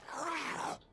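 A feral zombie in 7 Days To Die lets out a loud, raspy groan lasting most of a second, close and alone, before cutting off abruptly.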